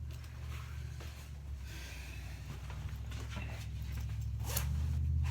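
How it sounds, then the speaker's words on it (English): A heavy-duty zipper on old riding chaps rasps along in a few short pulls, close and fairly quiet, with low rumbling handling noise underneath. "These are heavy duty zippers."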